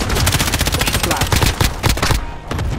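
Rapid automatic gunfire in a Call of Duty Modern Warfare team deathmatch, loud and close, with bursts rattling almost continuously and only brief gaps between them.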